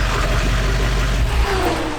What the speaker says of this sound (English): Everybody loves the sound of turbo